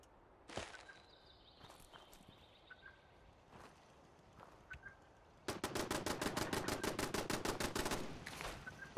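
Rapid automatic gunfire from the video game Fallout 76 erupts as a dense, evenly spaced burst of shots lasting about two and a half seconds, after scattered quieter footsteps and clicks.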